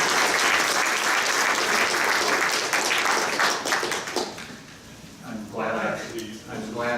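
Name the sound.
audience applause at colloquium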